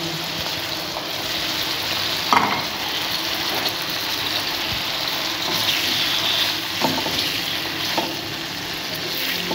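Chopped chillies fry in a pan for chicken matar salan, a steady close sizzle running throughout with a few soft clicks of a spoon against the pan.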